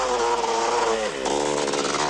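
KTM motorcycle engine revving loudly and shifting pitch as it passes during a desert race, a buzzy, continuous, close snarl with no talk.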